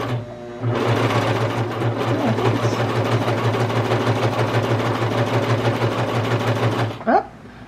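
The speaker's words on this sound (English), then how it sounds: "going to practice on this piece of fabric" A Brother Pacesetter cover stitch machine runs steadily on a practice piece of fabric, a loud, close, continuous whir with a low hum, then stops abruptly near the end.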